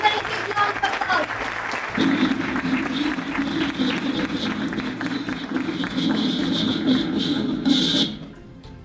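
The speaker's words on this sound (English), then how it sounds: "Give a big round of applause." A conference audience at an education event applauds as a speaker is welcomed onto the stage, steady dense clapping for about eight seconds before it cuts off, with a voice faintly over it at the start.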